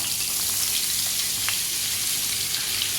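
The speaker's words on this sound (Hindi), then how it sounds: "मैदे को आपने अच्छे से रोस्ट कर लेना है।" Two tablespoons of maida roast in melted butter over a low flame, producing a dense, even, close-up sizzle that runs steadily throughout without speech.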